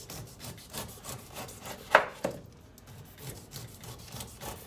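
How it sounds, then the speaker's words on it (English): A knife slices down the sides of a fresh pineapple with its top and bottom cut off, giving quiet rasping scrapes and a couple of sharp cuts, close and soft, with no talking. "Then I start slicing down."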